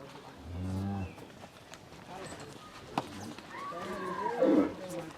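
Large grass-fed cattle being readied for Qurbani low and moo on a farm, one deep drawn-out bellow followed later by a second rising call, with people talking in between.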